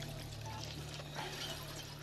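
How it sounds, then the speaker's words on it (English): Water pumped in a video game pours in a soft, continuous stream over a low steady hum, faint and unbroken throughout. "pump some water."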